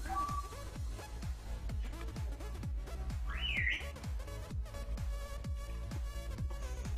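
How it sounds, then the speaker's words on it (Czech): A pet parrot gives a brief rising and falling whistle over steady rhythmic background music, faint and partly buried in the mix. "ve videích bude hodně slyšet jako pískot nebo něco takového, protože já mám papouška"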